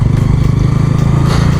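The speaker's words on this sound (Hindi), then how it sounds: "क्योंकि यहाँ ट्रैफिक आ ही जा रहा है।" Motorcycle traffic on a road, with a steady, loud engine drone that holds throughout without a clear rise or fade.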